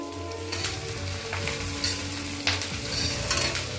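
Onions frying in a pan for a Dahi Katla recipe, a steady close sizzle with occasional stirring scrapes and utensil clinks over a low hum.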